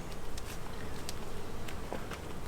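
Carniolan honey bees buzz at an open hive, a faint steady drone of many bees close by, with light tapping and rustling from handling hive frames.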